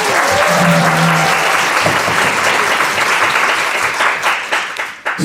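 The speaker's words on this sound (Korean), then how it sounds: "다시 한번 큰 박수를 부탁드립니다" A hall audience at a book-launch show in Seoul applauds a pianist and cellist, loud close dense clapping with a faint tonal whine early on, tapering toward the end.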